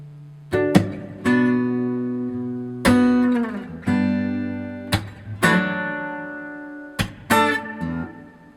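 Acoustic guitar playing measures 9 and 10 of a song slowly, starting from an open E, with a handful of spaced, ringing strummed chords that decay between strikes, close and clear, no voices.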